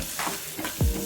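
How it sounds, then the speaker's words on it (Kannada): Ginger garlic paste sizzles and fries in a hot pan for a biryani, with a steady frying hiss and a few stirring scrapes, close and alone. "ಸೊ ಇದು ಚೆನ್ನಾಗಿ ಫ್ರೈ ಆಗಬೇಕು."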